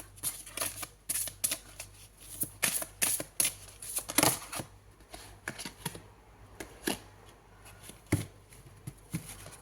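Oracle cards shuffled and drawn by hand, a run of crisp riffling bursts and snapping flicks in uneven clusters, close and fairly loud with brief pauses between, no talking.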